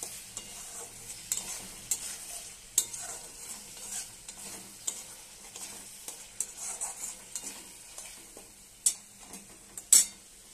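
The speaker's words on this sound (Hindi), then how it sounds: "थोड़ा सा टोमेटो डाल रही हूँ" Tomato frying in a pan is stirred with a utensil, giving a quiet sizzle broken by frequent sharp taps and scrapes against the pan, close up and without talk.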